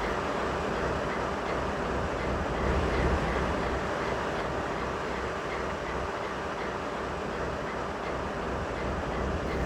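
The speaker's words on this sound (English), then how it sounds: "Saratoga and North Creek Alco B39-8E, locomotive number 8524, appears to be painted in the attractive Delaware and Hudson paint scheme." Saratoga and North Creek Alco B39-8E locomotive number 8524, in Delaware and Hudson paint, rumbling past with a steady, loud, broadband roar and faint wheel clatter throughout.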